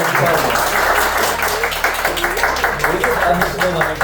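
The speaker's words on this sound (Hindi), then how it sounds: "तालियां बजा दो" Audience applause at an office welcome for a new recruit, steady clapping that fills the room with voices talking over it throughout.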